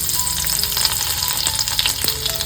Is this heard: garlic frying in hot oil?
yes